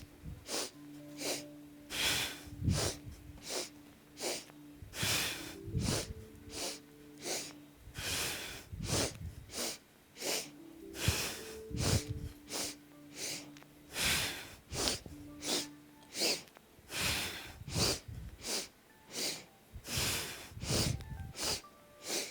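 Repeated forceful breaths during a yoga breathing exercise, sharp rhythmic exhalations through the nose arriving about once a second over a long steady stretch, close and fairly loud, with no talking.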